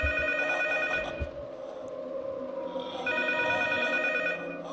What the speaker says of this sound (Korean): 자, 전화 왔습니다. 전화 왔어요.